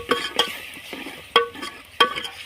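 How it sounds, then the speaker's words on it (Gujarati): Water splashes into a hot tomato tempering in a pan over a rustic clay stove, bursting into a few sharp sizzling spurts with quieter crackling between them, close by and without talk. "આપણે હવે પાણી રેડશે થોડુંક જેટલું આપણે જોવે એટલું પાણી રેડશું"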